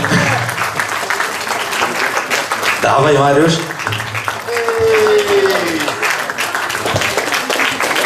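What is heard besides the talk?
audience applause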